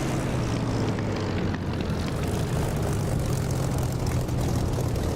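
A Spitfire's propeller engine in the DCS flight simulator drones steadily and loudly, a continuous rumbling roar with no talk over it.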